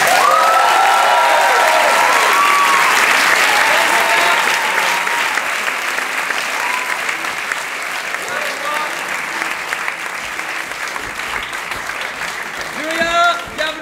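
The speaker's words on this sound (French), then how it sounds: "On va applaudir Julia!" Theatre audience applauding at an improv show at a Paris festival, loud sustained clapping filling the hall with some cheering voices mixed in, gradually easing toward the end.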